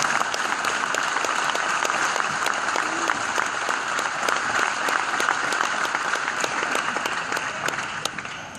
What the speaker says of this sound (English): So let's give Derek a round of applause